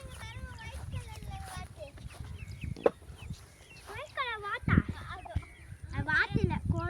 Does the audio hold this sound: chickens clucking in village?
yes